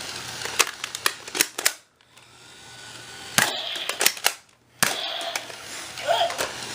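A toy Nerf pistol fires foam darts at a target, giving a handful of sharp, close clicks and thuds spread irregularly over a few seconds, with quieter stretches between shots.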